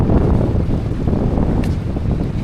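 Strong northeast monsoon wind at a coastal spot buffets the microphone in heavy, low, rumbling gusts that stay loud and unsteady throughout the short stretch.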